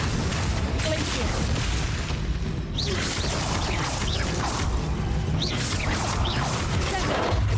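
Icy spell blasts in a fantasy video game, a dense stream of crashing, whooshing bursts over a steady loud rumble, with several swishing strikes recurring across the stretch.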